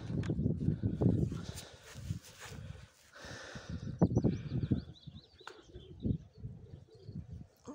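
A female racing pigeon close by gives soft repeated coos, mixed with wing rustles and bird chirps, with no talking over them.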